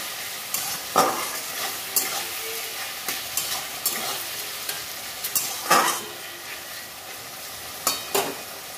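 A spoonful of cumin is sautéed and stirred in a pan over a low sizzle, with repeated scraping strokes of the spoon spaced irregularly throughout and no voices.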